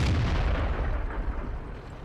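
A tank gun fires in the game World of Tanks, a deep booming blast that rolls off into a fading low rumble, heard alone and loud.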